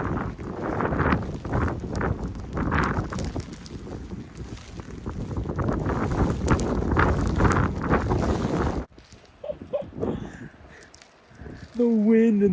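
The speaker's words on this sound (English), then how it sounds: "The wind and the snow is just ludicrous." Roaring blizzard wind with heavy snow buffets a van, a loud broadband rush with gusts for most of the clip, then drops to quieter wind with a short tonal whine near the end.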